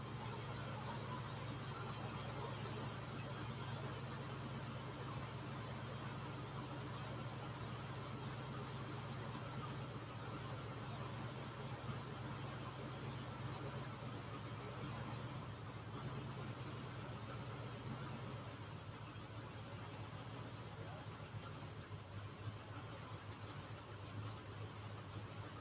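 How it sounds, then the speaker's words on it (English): A Chevy pickup engine idles steadily at a low, even rumble, fairly quiet and continuous with no revving, heard on its own without talk. "see if I can turn that idle down on it."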